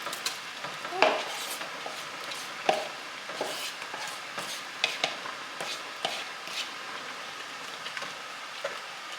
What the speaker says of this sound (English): I'm gonna stir in my jalapenos